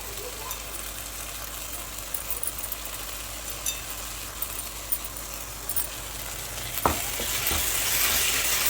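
Tomato, mint and coriander leaves frying in oil for biryani, a continuous close sizzle with a few stirring knocks and a sharper clatter near the end.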